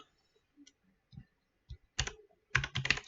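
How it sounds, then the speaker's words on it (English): Computer keyboard typing: scattered soft key taps, then two dense bursts of quick clattering keystrokes close to the microphone, with no talking. "if I move it onto this screen, you can't see what I'm typing"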